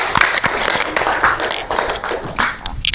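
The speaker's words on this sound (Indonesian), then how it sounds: "Tepuk tangan buat teman-temannya." Children in an elementary school classroom clap for their classmates during a science lesson, a brief scattered round of hand claps over a few seconds with faint background chatter.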